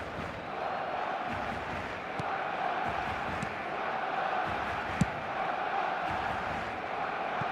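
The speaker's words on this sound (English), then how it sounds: "Certainly gave this crowd something to really cheer about." Steady roar of a stadium crowd cheering in an eFootball football match, a dense continuous wash of voices with a few sharp accents, no commentary audible over it.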